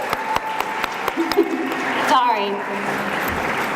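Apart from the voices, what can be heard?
audience applause for girls tennis team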